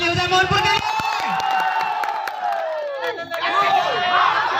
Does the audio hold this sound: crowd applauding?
yes